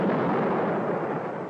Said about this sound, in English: Fire missiles, concentrated direction.